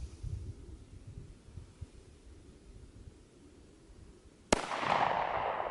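A single sharp gunshot from an NAA Ranger II mini revolver firing CCI ammunition cracks out loud after a stretch of low background hum, followed by a brief ringing decay.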